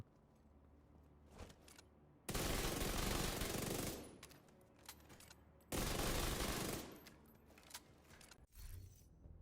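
Sustained bursts of automatic gunfire in Tom Clancy's The Division 2, two long loud volleys of a few seconds each separated by quieter clicks and handling noises.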